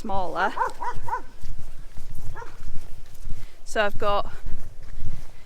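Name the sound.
dogs barking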